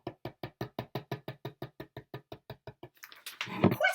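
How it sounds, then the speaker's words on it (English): Djembe drum struck in a fast, even run of about sixteen sharp, soft taps forming one sustained roll, close and quiet, followed by a short rustling noise. "I'm going to do it on my djembe drum now."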